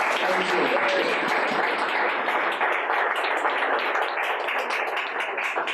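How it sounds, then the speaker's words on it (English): A large audience at a sales event applauds a speaker from Salesloft as he takes the stage, a thick, loud, sustained burst of clapping with some cheering voices underneath. "Round of applause, Jack Neicho, Salesloft."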